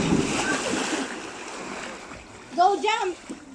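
Outdoor water play with a child jumping in, voices shouting and calling over splashing and sloshing water, with a brief louder burst of excited voices near the end.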